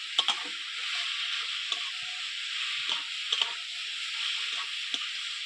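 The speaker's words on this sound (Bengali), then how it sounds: "এবার একটু নাড়াচাড়া করবো" Amrul greens and prawns stirred in a hot pan, a steady soft sizzle with occasional light scrapes and taps of the spoon, fairly quiet and free of talk.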